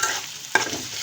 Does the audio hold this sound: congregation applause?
no